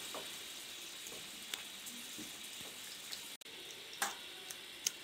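Broth poured into a sizzling pan of paella royale, a steady faint frying hiss with occasional soft pops and liquid splashes, close, with no talking.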